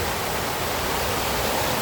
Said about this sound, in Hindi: और साथ में पानी बह रहा है